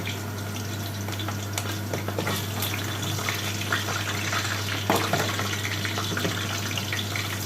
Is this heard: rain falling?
no